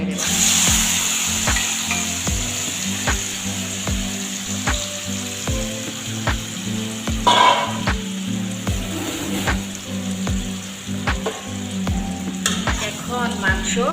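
Spice-rubbed chicken frying in oil and being stirred constantly gives a loud steady sizzle, punctuated by regular scraping strokes of a wooden spatula against the pot, with no speech.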